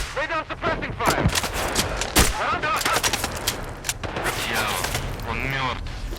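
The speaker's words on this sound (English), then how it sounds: "Lay down suppressing fire." Sniper Ghost Warrior 3 firefight on a GTX 1060 PC: rapid bursts of automatic gunfire and sharp single shots, loud and close, with soldiers shouting in the game.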